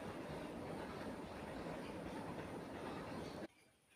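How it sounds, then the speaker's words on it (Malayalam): A train passing at a distance, a steady low rumble and rolling noise that continues evenly before cutting off abruptly near the end. "ഇപ്പോൾ ട്രെയിനിൻ്റെ ശബ്ദവും കേൾക്കാൻ കഴിഞ്ഞിട്ടുണ്ടാവണം"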